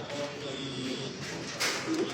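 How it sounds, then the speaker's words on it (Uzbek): Pigeons coo softly at a pigeon market in Andijan, a faint low murmur against market background noise in a brief stretch. "Mana shu bitta figurasi ham gap yo'q, chiroyli kaptar ekan."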